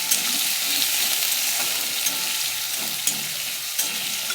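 Onions fry in tempered oil, a loud, even sizzle close by with occasional faint stirring clicks and no voices.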